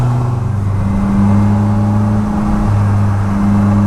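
A Polaris Slingshot accelerates on a mountain road while traction control cuts in, producing a loud, close engine drone with pitch stepping up and down as power is pulled back, with no talking.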